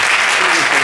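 Audience applause for parents at a student club anniversary show, a brief burst of many hands clapping loudly and continuously.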